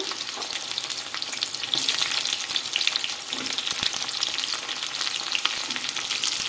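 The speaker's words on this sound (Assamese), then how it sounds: "পটলখিনি অকণমান হাই ফ্লেমতে ৰঙচুৱা কৰি পেলাই ভাজি ল'ম" Pointed gourd pieces fry in hot oil over a high flame, giving a steady, dense sizzle that holds up close and continuous throughout, with faint crackles and a slight swell partway through.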